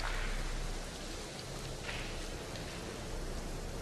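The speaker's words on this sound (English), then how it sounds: "even through the sound of rain pounding down on the ground" Heavy rain pounds down on the ground outside a house by the woods, a dense, even hiss of downpour that stays steady and loud throughout with no other sounds standing out.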